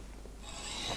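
A single short rasping stroke of a hacksaw blade biting through material, close and dry, building slightly in intensity.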